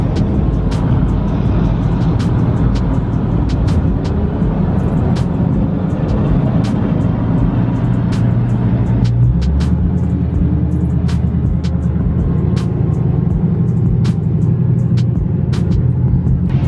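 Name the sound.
carbon fiber widebody Dodge Hellcat engine whine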